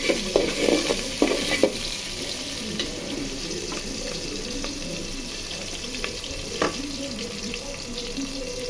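Onions frying in oil in a cooking pot on a home stove, a steady close sizzle with a few sharp stirring clatters near the start and another around the middle, no voices.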